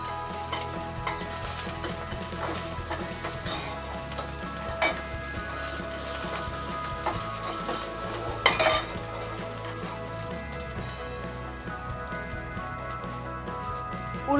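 Onion frying in hot oil with fenugreek seeds for apple pulissery, a steady crackling sizzle with occasional clinks of a utensil against the pan.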